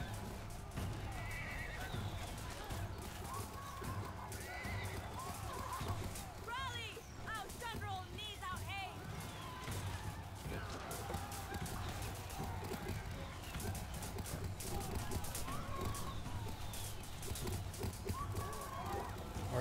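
Cavalry horses of the White Horse Raiders in the battle game Total War: Three Kingdoms whinny and neigh amid a constant din of hooves and battle noise, with someone talking over the top.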